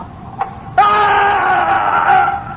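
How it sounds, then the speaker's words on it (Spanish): A sharp, high scream breaks out suddenly and holds for about two seconds, loud and close, after a brief faint sound. "Se oyó un grito."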